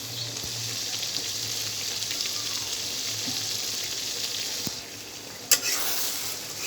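Beef brain sautés in a covered pan, giving a steady, even sizzle at moderate loudness with one brief clatter near the end.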